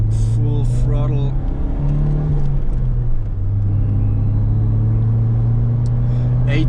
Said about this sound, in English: let's accelerate one more time, really fast, full throttle.